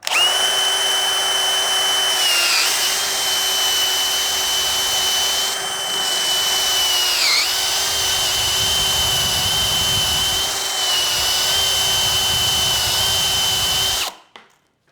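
A DeWALT DCD999N cordless brushless hammer drill in gear 2 on standard drilling mode, an auger bit boring into hard bangkirai wood: a loud, steady high whine holding for about fourteen seconds with brief dips under load, then cutting off abruptly.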